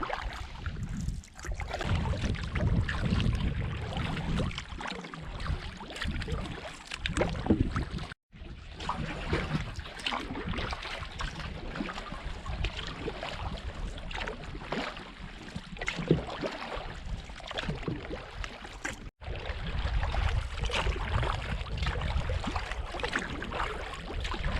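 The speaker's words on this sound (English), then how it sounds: "we've been paddling for a solid hour and a half across Little Caution Lake" Paddling a Hornbeck canoe across Little Caution Lake, with soft water swishes and drips over steady wind buffeting the microphone for a long stretch, close and continuous.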